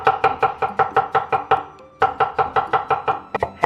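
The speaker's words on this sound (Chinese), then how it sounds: "还是要这样子稍稍的给它剁碎一点" Knife chopping a meat filling with water chestnut for pan-fried buns: a fast, steady run of sharp chops on a board, a brief pause, then another even burst of strikes, close and clear with no talking.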